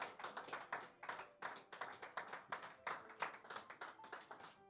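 A church congregation claps in unison to acclaim the Lord, a dense, rhythmic run of steady handclaps from many people, fairly close and with no voices over it.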